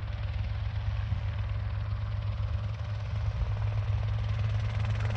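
A small light helicopter circling overhead on a training flight, its engine a steady, continuous drone with a low rumble that holds at an even level throughout, with no talking.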